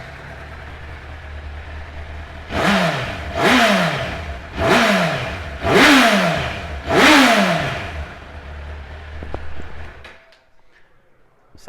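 A 2006 Honda CBR1000RR Fireblade starts up, then gives five sharp throttle blips in a steady rhythm, each rising and falling, before the engine cuts off and goes quiet.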